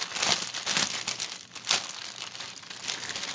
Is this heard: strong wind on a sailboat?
no